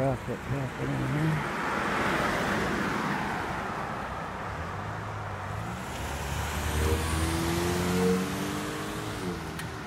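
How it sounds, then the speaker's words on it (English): Cars pass on a springtime road during a bicycle ride, a broad rushing traffic noise swelling and fading along with wind, while someone talks over it. "got traffic happening here."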